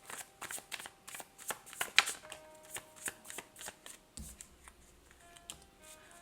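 A deck of tarot cards is shuffled by hand in quick, crisp riffling flicks, close and alone, the slaps slowing near the end as a faint low hum enters.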